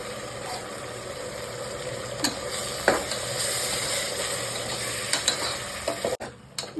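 A ground masala of mint, coriander, ginger, garlic and green chilli fries in oil for egg biryani, a steady close sizzle with occasional stirring clinks and scrapes against the pan.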